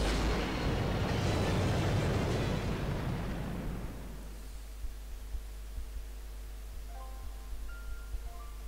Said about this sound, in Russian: Вот и здесь произошел взрыв, как и на острове